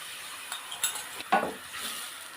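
A spice mix and tomato are stirred and fried in a pan, with a soft sizzle underneath and a few scraping clinks of a spoon close by.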